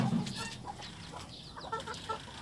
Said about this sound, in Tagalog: Alagang pato at manok.